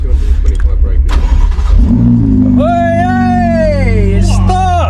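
A wrecked Ferrari 488 Spider cranks and fires up, its engine catching and revving loudly up close while excited voices shout over it.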